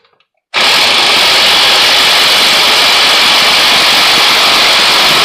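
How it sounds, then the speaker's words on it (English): A loud, steady broadband whir, like an air impact wrench, runs on the crank pulley bolt of a 2.4-litre Dodge Dart engine. It starts abruptly after a brief silence and holds close and sustained for about five seconds, with no talk. "You definitely want to use an impact."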